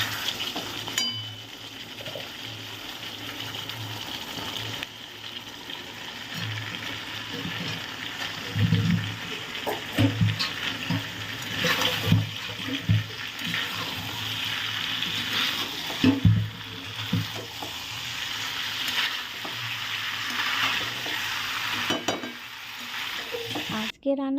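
Green jackfruit is stir-fried in a pan, giving a continuous sizzle broken by repeated spatula scrapes and occasional clinks against the metal, loud and close with no speech.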